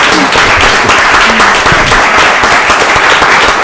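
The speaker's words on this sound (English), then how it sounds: "Drippy makes a grand entrance. Give him a round of applause." Loud, close applause and clapping for a mascot named Drippy making a grand entrance at a county commissioners' session, a dense, vigorous burst of many hands that stays strong and steady throughout.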